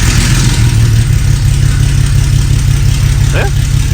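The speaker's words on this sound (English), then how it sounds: "Now we're gonna hit the key again and just let this thing run and warm up" A truck engine idles steadily after starting up, running loud and continuous throughout to warm up, with a brief chirp near the end.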